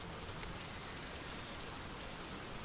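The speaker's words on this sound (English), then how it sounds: "let me take a water break while you guys enjoy the sound of rain" Soft, steady rainfall patters evenly at a low level, distant and unbroken, with no voices.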